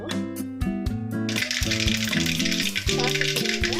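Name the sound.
mustard seeds spluttering in hot oil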